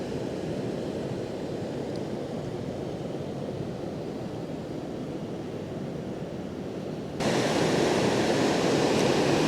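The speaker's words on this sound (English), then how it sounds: "You'll hear the noise of the water there." Water rushes out beneath the Glen Affric dam in a steady, loud roar of broadband noise that grows louder and fuller near the end, with no voices.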